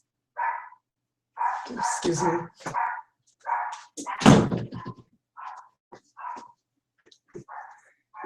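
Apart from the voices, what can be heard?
dog barking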